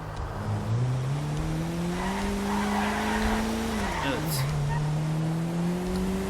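A car in the GTA 5 video game drives and skids, its engine tone rising and sliding while tires squeal through a long drift, with someone talking over the game sound.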